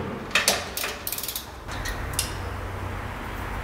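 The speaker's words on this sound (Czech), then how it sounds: "Teď si povolíme tady na boku jeden šroub." Wrench loosening a side bolt on a Kawasaki Z750 motorcycle engine during valve adjustment: a few quick metallic clicks and ratcheting ticks early on, then quieter handling noise, close and with no talking.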